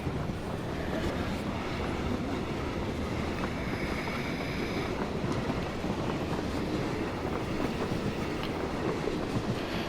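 A train rolls along in the PUBG battle royale game, a continuous low rumble with faint clickety-clack running beneath it, moderately quiet and steady throughout, with no voices.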